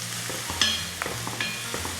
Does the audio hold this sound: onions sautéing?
yes